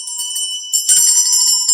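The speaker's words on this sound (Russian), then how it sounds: "а может быть колокольчик." A small hand bell rings with a bright, sustained metallic tone, joined midway by a second burst of jingling that grows louder and stays close, with no voices.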